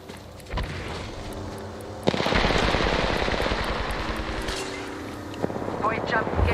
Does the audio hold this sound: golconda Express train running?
no